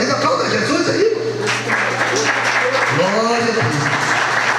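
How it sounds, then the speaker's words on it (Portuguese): Congregation applauding at a Friday church service, a moderate bed of clapping beneath a voice talking over it, with sustained keyboard tones underneath. "Parabéns, aplauda Jesus aí."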